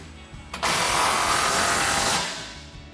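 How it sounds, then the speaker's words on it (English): A power tool driving a 13mm socket tightens an exhaust clamp on a GMC Sierra 1500, a close, loud steady whir lasting under two seconds before winding down. "grab your 13mm socket to tighten down your clamp"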